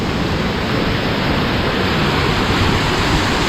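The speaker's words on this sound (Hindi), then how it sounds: "वहाँ से आ रहा है पानी" A mountain stream along the road to Leh Ladakh rushes downhill in a steady, loud, even wash of water that stays constant throughout, with no voices.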